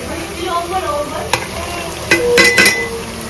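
Tomatoes sauté in hot oil with browned onion in a pan, a continuous close sizzle with a few sharp spatula scrapes and clinks near the end.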